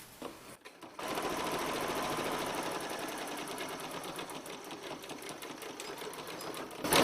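Sewing machine tack-stitching a denim envelope purse made from blue jeans, a steady close whirring run lasting several seconds after a brief quiet start, with no talk.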